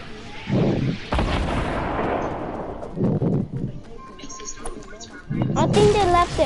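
Rockets explode during a Fortnite match in a few heavy, booming blasts spread across several seconds, near and loud, with voices chatting in between and after.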